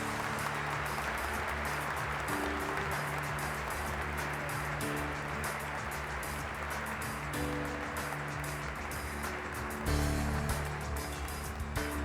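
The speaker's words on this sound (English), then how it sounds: "please give an applause and help me to thank George Heinrichs" Sustained applause from an awards dinner audience at a ceremony in Washington, DC, a steady hiss of many hands clapping over a low hum of the room, holding level without a break.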